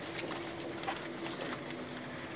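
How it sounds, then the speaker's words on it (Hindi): Pigeons in a loft in Lahore, a favourite bird among fancy high-flying stock, give soft faint cooing over a steady background hum, with a couple of brief chirps and no speech. "ये हमारा फेवरेट कबूतर है"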